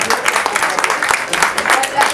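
A live concert crowd at La Canisse in Sérignan Plage applauds after a reggae song, a steady mid-loud wash of many hands clapping with voices mixed through it.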